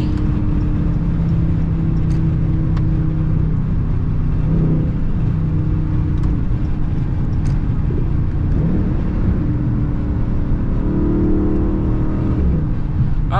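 A Dodge 392 V8 car with a 5.7 engine pulls through heavy evening traffic, its deep engine rumble loud and steady from start to finish as it accelerates and downshifts, with faint occasional voice sounds underneath.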